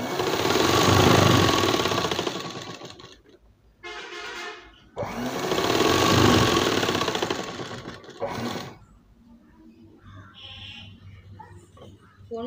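A sewing machine stitches a chudidar in long continuous runs, loud and close, pausing briefly between bursts before quieter handling noises at the end.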